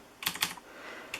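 Mechanical keystrokes on a Corsair K95 RGB keyboard with Cherry MX Blue switches, a quick cluster of clicky presses followed by a lone click a moment later, close and moderately quiet with no talk.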